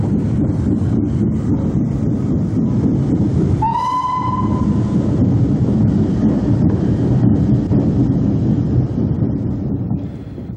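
A Southern Railway USA-class steam locomotive in BR service on the Kent and East Sussex Railway chuffs steadily with a rumbling, clanking train, and a single clear whistle sounds partway through before the running continues.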